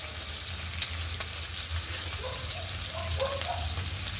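Garlic frying in cooking oil in a pan, a steady close sizzle with light stirring scrapes over it throughout.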